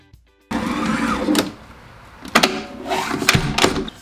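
Kenwood Cooking Chef stand mixer kneading pelmeni dough, a loud motor whirr that rises and falls in uneven surges with brief pauses and knocking bursts; no voices.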